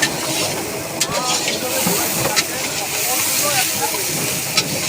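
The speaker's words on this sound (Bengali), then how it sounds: "জয়দেবদা ভালো করে লবণ টবণ দিয়ে ঘেটে নিচ্ছে পেঁয়াজটাকে।" Onions frying with salt at a picnic cooking chicken kosha, a constant hissing sizzle with occasional sharp scraping clicks as they are stirred, with faint voices in the background.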